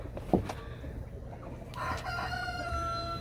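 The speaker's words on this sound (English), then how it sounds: "Rooster's being snotty." Farmyard rooster near hens, crowing at moderate distance with a short clucking note early, then a longer drawn-out crow, over a quiet outdoor background.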